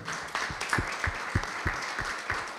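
Audience applause thanking Robert at the end of a talk, a moderate, fairly sparse patter of claps, distinct individual hits, quiet and steady over a couple of seconds.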